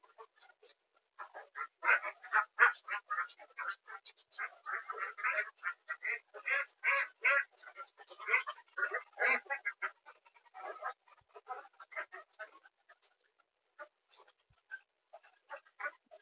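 Ducks quack repeatedly in a busy, overlapping chorus close by, the calls thinning out and growing sparser toward the end.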